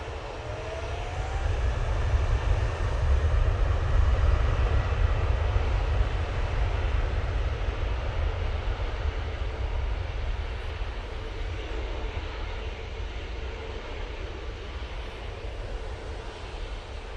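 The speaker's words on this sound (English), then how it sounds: "Off to Eindhoven we'll be going with the 737 MAX 8" A Boeing 737 MAX 8 jet takes off, its engines producing a loud, broad roar that swells in the first few seconds and then slowly fades as it climbs away.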